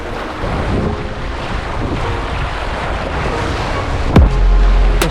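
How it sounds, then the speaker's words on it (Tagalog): Strong wind roars steadily across the microphone alongside surf and water noise at Magundi Point in Lobo, loud and continuous, with a low thump near the end. "lakas ng hangin"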